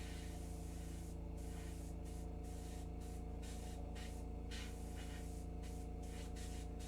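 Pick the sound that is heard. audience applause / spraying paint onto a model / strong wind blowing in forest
spraying paint onto a model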